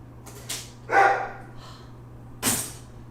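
A dog gives a few sharp barks and yips at close range, spaced apart and alone over a low steady hum.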